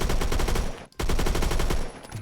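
A FAL battle rifle firing on full auto in the Roblox shooter Phantom Forces: a close, loud stream of rapid shots, a brief gap just before the one-second mark, then another sustained burst.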